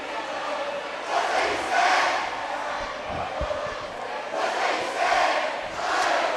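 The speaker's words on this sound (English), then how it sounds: "Both student sections are vocal right now. The Lions doing their what's that you say cheer." Rival student sections at a high school boys basketball game between CPA and Ensworth in a gym, with loud rhythmic crowd chanting rising and falling in waves, rowdy group cheering, and occasional thumps underneath.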